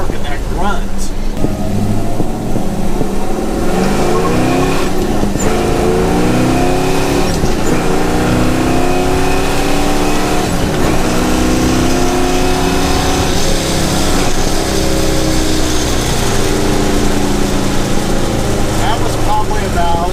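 A 1967 Chevelle SS with a torquey, grunty engine revs and accelerates hard, loud and close, its pitch rising and falling through gear changes as a voice talks over it.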